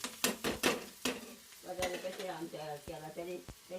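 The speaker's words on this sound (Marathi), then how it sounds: "तेल टाकल्यानंतर कांदा परत हलवून घ्यायचा" Onion stirred with a spoon in a spoonful of hot oil while cooking a kurdu leaf vegetable dish, with several sharp scraping strokes up front followed by a quieter, steady sizzle and occasional clinks.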